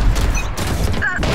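Gunfire in a Valorant match: a sustained, loud burst of shots and impacts that fills the short moment with dense, harsh noise and no pause.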